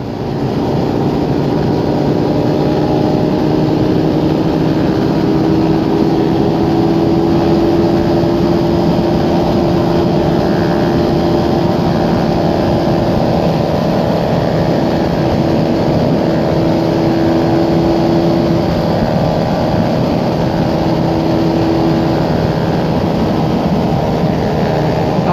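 Motorcycles fitted with radar carburettors rev loudly on a group road ride, a sustained, close engine drone with rising and falling pitch that fills the whole stretch.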